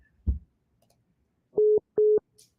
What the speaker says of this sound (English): It's somebody's beeping in, but somebody's still on the phone.